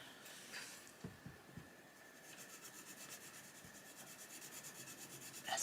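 A lime green coloured pencil being sharpened gives a faint, continuous scraping rasp, with a few soft taps near the start and a slightly louder scrape at the end.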